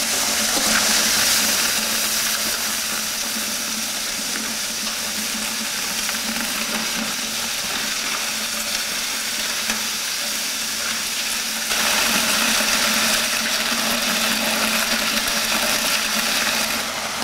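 A mixing machine churns a batch of mortar, a loud, unbroken rumbling wash of grit and liquid that lasts throughout and grows slightly harsher partway through.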